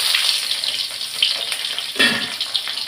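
Chopped onion dropped into hot oil with spluttering mustard seeds, a bright hissing sizzle with a burst of crackle near the two-second mark, close and without talk.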